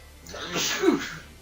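A single close, loud sneeze from a person, a sharp burst that rises and then trails off within about a second.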